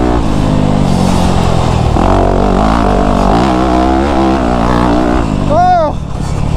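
A motocross motorcycle screams along in fourth gear, its engine loud and close with wavering revs, then pitches up into a sharp rising whine near the end.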